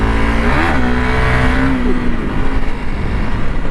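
A dirt bike engine, a 2021 Honda CRF300L Rally or 2005 Kawasaki KLX300R, revs up and down close by, a buzzy rising and falling drone that settles into a rough, steady rumble.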